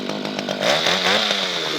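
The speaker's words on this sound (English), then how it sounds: "The drill going." A gas-powered drill bores a 7/16 tap hole into a maple tree, its small two-stroke motor droning close by and rising in pitch as it bites into the wood, with no talk over it.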